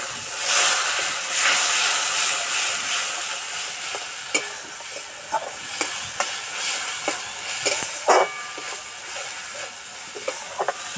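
Spice paste for a pabda fish curry, with a little sugar and water added, sizzles and fries steadily in a pan, punctuated by sharp scraping and stirring clicks from a spoon, with no talk.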